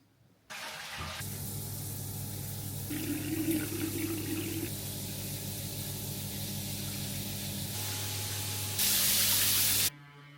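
Shower water runs steadily as a continuous, fairly loud hiss of spray, with a brief brighter burst of flow near the end before it cuts off.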